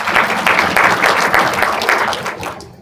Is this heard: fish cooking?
no